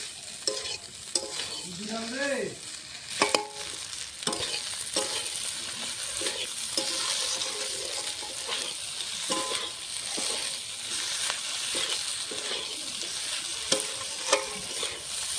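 Vegetables and fish roe sauté in a pan for a Bengali chachchari, a constant sizzle broken by repeated scraping stir strokes and soft clinks, close up with no talking.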